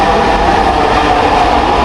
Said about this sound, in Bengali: আমি এখন আছি ঢাকার মেট্রো রেলে।